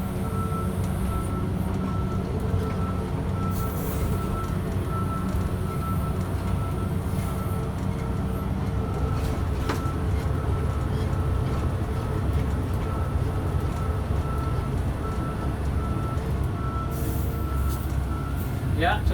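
A Komatsu PC 2000 excavator rolling forward into its parking spot, a loud constant engine drone with a high tonal whine running steadily throughout, unbroken and close.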